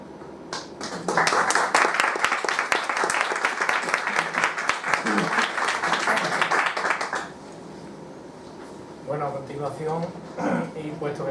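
Audience applauding at a school plaque unveiling ceremony, a dense patter of clapping that runs for about six seconds and then gives way to someone speaking.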